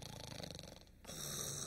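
A man imitates a sleeping person's snoring with his voice during a lecture, a rough, droning inhale followed by a louder, buzzing rasp, close and moderately quiet.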